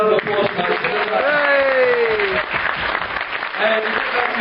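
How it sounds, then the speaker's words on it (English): A crowd at a zombie film festival in Leeds claps for an organiser named Andrea Seaver, loud and dense applause mixed with cheering and raised voices, heard through a muffled, band-limited recording. "Please give her a round of applause."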